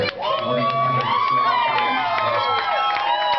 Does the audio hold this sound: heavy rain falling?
no